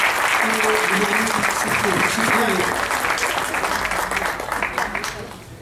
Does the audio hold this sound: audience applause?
yes